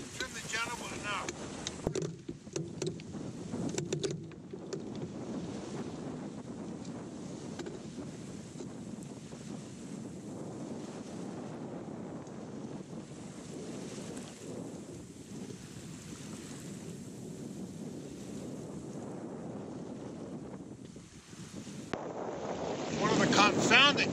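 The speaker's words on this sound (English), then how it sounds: "the wind is blowing 10 knots 1 minute" Wind roars steadily over the microphone aboard a sailboat at sea during a trial of a Cape Horn steering vane, a constant loud rushing with water wash beneath it and brief quieter gaps near the end.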